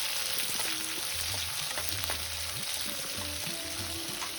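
Cinnamon, cloves and ginger frying in a pan for avarekalu sambar, a steady close sizzle with irregular scrapes of a stirring spoon over a low hum, no talking.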